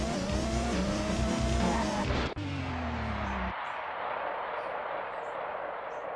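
Race car engines drone loudly in the SNES racing game Super Drift Out, with tire squeals layered over the roar. The sound cuts abruptly near the middle, then the engine and skid noise continue more thinly.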